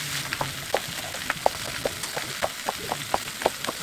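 Poor man's steak searing over high heat for an extra-charred finish, a close, lively sizzle with regular sharp pops and crackles spread through a few seconds.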